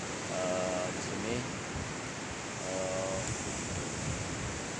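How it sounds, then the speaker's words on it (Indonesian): Ocean waves at Widuri beach by a pier in the morning, a steady wash of surf with wind noise, fairly faint and continuous, with brief murmurs of nearby voices. "Kita sedang menikmati ombak, ya, yang berada di sana."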